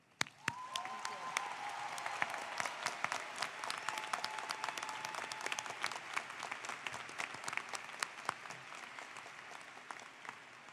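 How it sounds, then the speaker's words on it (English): Applause for the faculty fills a college commencement ceremony, many hands clapping in a lively, sharp-edged burst that swells quickly and slowly thins out over about ten seconds. "Let us all give the faculty present today and those watching via live stream our applause"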